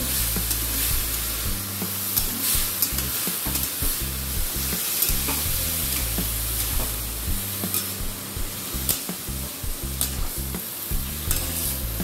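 Banana stem stirred in a pan with salt and turmeric, a steady sizzle running under repeated scraping strokes of the spoon, close and constant throughout with no voices.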